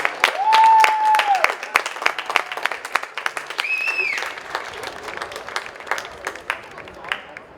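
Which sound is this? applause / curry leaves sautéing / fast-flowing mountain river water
applause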